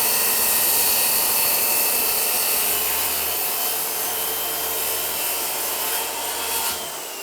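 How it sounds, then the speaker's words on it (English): Sanding a wooden live edge vanity surface during a bathroom remodel, producing a continuous loud abrasive hiss with a steady machine hum, close up, with no talking. "sanding this surface down and making it perfect"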